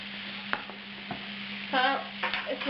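Danish meatballs fry on high heat in a pan with a faint steady sizzle, broken by a few scraping stirs and clinks.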